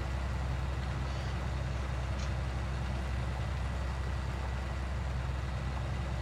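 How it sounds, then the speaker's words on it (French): A tractor in Farming Simulator 19 labors while ploughing a field, a loud, steady low diesel drone with a dense rumbling engine tone, unbroken and without speech. "Le tracteur il peine un peu"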